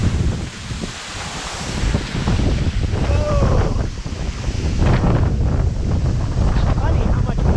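Strong, cold wind near a remote jungle waterfall buffets the microphone in loud, continuous gusts over a roar of falling water, with a brief voice heard partway through.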